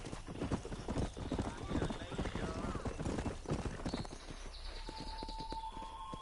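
Horse hooves clip-clop rapidly at a riding pace in the Western video game Red Dead Redemption, close and busy, with a whinny and spoken voices over the galloping before tones chime near the end.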